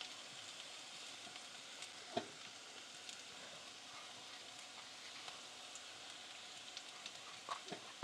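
Tomato puree fries in a pan with onions and ginger-garlic paste for tomato rice, a faint, steady sizzle with a few soft taps, no voices.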